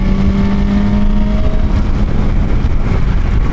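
Honda Hornet 1000 SP motorcycle engine pulling through the mid-range around 5,000 to 7,000 RPM, a loud, steady drone with a rising tone early on, close and continuous with wind noise and no talk.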